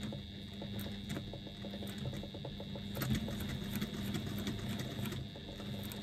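Sewing machine stitching a fabric seam, a quiet, steady rapid needle rhythm with a constant hum running the whole time, close and alone.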